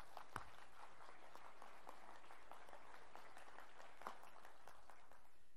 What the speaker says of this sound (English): back to their seats with a round of applause.